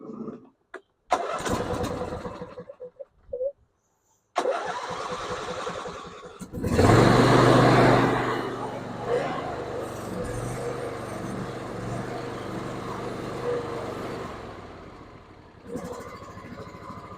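A riding mower's small engine, recovered from a field where it had died, cranks a few times, catches with a loud roar, then settles into a steady idle.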